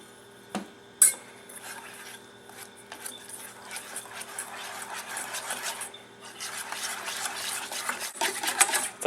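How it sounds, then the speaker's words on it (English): A whisk scrapes and clinks steadily in a bowl, mixing a peanut butter glaze with milk, with a couple of sharper knocks near the start and a busy, continuous stirring rhythm close by. "Now we need to whisk all these together."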